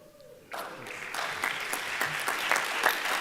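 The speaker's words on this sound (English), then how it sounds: "thank you for your standing applause" Standing applause for a Law Day award recipient at a state bar association annual meeting, as a large room bursts into sustained, dense clapping that swells and holds steady.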